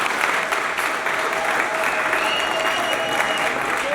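An audience at a gospel gathering breaks into loud, sustained applause after a prayer. The clapping stays thick and continuous throughout, with faint crowd murmur beneath it.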